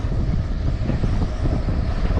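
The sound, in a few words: wind blowing while river fishing from a boat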